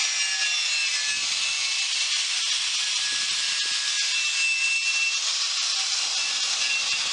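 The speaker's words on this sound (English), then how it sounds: "you can see the wire wheel does a great job getting off that old paint right down to the bare cast iron" A wire wheel scrubs old paint off cast iron from a 1910 Singer sewing machine clamped in an outdoor vise, giving a steady, loud, bright hiss and grinding whir that continues without a break.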